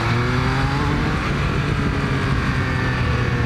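A Triumph Speed Triple 1200 RS motorcycle engine drones loudly and steadily, its pitch rising slightly as it revs, close and continuous.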